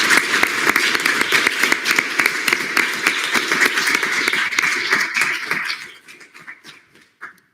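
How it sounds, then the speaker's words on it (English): A room of student government senators claps for graduating students, a lively burst of individual claps that thins out and fades after about six seconds, ending with a few scattered claps. "Can we give a round of applause to those graduating?"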